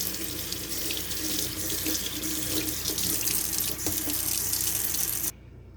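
Water pours steadily from a kitchen sink tap as a dishwasher filter is rinsed, a continuous hissing splash close by that cuts off abruptly just before the end.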